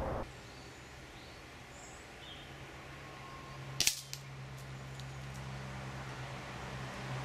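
A single sharp crack from a Brocock Concept Elite S6 air rifle, a UK sub-12 foot-pound model, fired outdoors amid quiet background hum and faint birdsong, followed by a small metallic tick.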